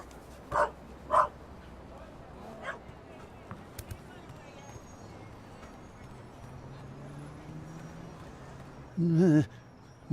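A dog in The Raven video game gives a couple of short barks near the start, then a louder whimpering yelp near the end, with a quiet ambient backdrop between them.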